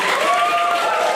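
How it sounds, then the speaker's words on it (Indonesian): A short burst of dense audience applause at a cultural event, loud and continuous, with a sustained tone over the clapping. "Tepuk tangan dulu"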